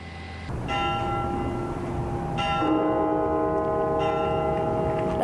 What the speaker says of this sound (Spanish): Las campanas de la Catedral Nacional de Washington sonaron 400 veces